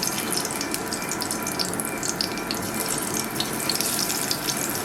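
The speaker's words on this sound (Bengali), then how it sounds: "এবার এর মধ্যে আমি আলুগুলো দিয়ে দিচ্ছি।" Potatoes frying in hot oil in a pan, a dense, steady, close sizzle with fine crackling throughout, no voices.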